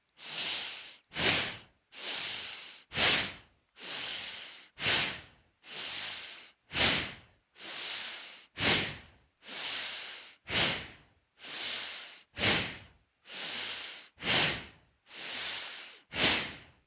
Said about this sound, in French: Donc, inspire et actif. Et expire et actif.